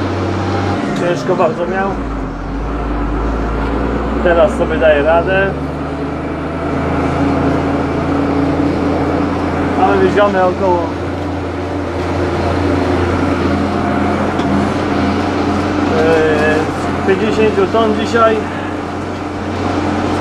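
Ursus 1634 tractor hauling a manure spreader on a farm, a steady low engine drone running throughout with someone talking over it.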